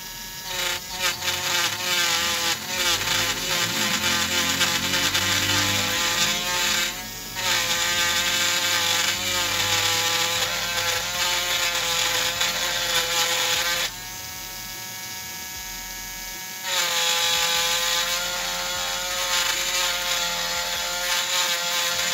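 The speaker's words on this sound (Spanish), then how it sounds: "la mini fresadora. Bueno, acá traje un pedazo de madera para hacer" A mini milling machine cuts a piece of wood with a dense, buzzing motor drone and rattling cutter noise that runs continuously, its tone shifting and easing at moments as the cut changes.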